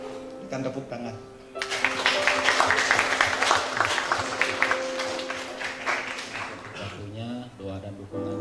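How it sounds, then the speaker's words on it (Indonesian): Guests at a wedding reception burst into sustained clapping that swells, holds for several seconds and fades, with voices speaking before and after the applause. "dengan tepuk tangan."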